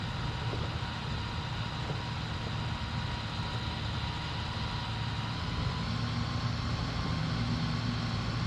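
A lawnmower cuts a large field in Farming Simulator 22, on the Attingham Park map, with a steady, continuous low engine drone and broadband mechanical noise that holds evenly throughout and never pauses.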